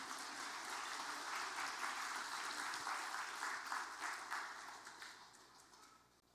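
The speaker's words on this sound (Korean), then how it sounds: "박수 한번 해주시죠." A church congregation at a Korean Sunday worship service applauds the Zion choir, a sustained round of many hands clapping in a large room that swells briefly and then fades away toward the end.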